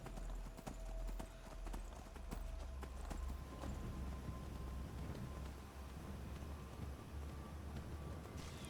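Horse hooves beat steadily as a rider travels on horseback in the Skyrim video game, a faint, regular clip-clop over a low rumbling ambience with no talking.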